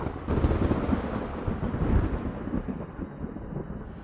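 Thunder strikes with a heavy, booming roar that swells and then rumbles away over a few seconds.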